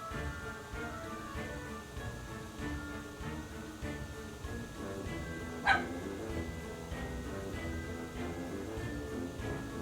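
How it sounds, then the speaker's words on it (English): A dog barks behind a closed door, producing muffled, intermittent barks and yips that sit faintly under game music, with one sharper bark standing out midway. "My dog likes to bark at random things"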